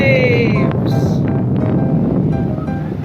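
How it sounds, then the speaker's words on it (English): Ocean waves wash and splash in windy weather, with steady broadband surf noise and wind buffeting the microphone, loud and continuous throughout. "10 waves in the windy weather."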